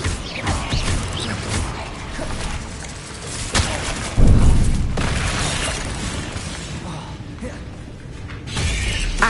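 A Bombarda blasting spell in the wizarding video game Hogwarts Legacy: a loud booming explosion with shattering debris amid a dense, busy game soundscape, with a voice speaking briefly.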